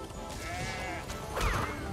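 A goat bleats in the Crash Bandicoot video game, a wavering cartoonish call followed by a crash-like hit near the end, heard alone without talk.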